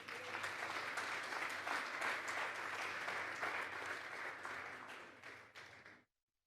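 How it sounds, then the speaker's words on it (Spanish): A church congregation at a Sunday morning service applauds together, a steady, dense wash of many hands clapping close and loud for about six seconds before it tapers off and stops abruptly. "Vamos a darle un fuerte aplauso pues al Señor."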